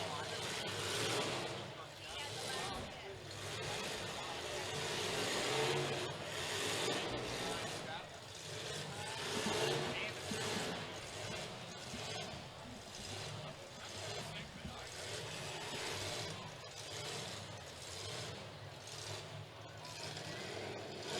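Battered cars in a limited weld demolition derby at the Jefferson County Fair, engines revving and grinding in a dense, continuous roar with metallic knocks, a commentator's voice running over the din throughout.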